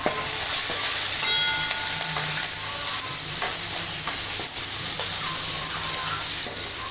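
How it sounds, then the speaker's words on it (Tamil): Curry leaves and onions frying in a pan, with garlic added, for a drumstick kuzhambu: a loud continuous sizzle with bright crackling and occasional stirring clinks, close and steady throughout with no talking. "கருவேப்பிலை போட்டுக்கலாம். வெங்காயத்தை வதக்கிக்கலாம்."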